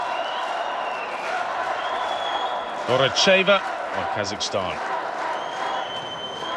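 A weightlifting arena crowd in Almaty applauds and murmurs steadily at the 2014 World Weightlifting Championships, a continuous din in the background while an announcer speaks briefly over it.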